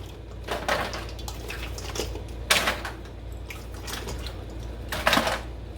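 An aluminum pan clanks and rattles in a kitchen while seafood is loaded into it before going into the oven, with a few separate moderately loud knocks spaced over a few seconds.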